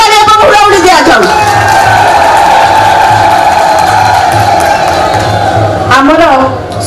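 Crowd cheering and clapping at an Odisha political rally: a loud, dense roar that holds steady for several seconds with a raised voice cutting through, then fades out at the end.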